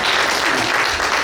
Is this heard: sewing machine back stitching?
no